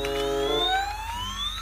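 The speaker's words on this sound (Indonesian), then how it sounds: "Wow, ada mobil damkar ya." A fire truck siren wails in a steady rising sweep, moderately loud and unaccompanied by speech, with a low hum beneath it.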